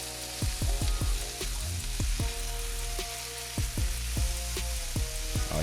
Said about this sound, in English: while we got our bacon frying